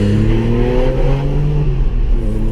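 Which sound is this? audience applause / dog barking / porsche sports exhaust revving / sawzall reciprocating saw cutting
porsche sports exhaust revving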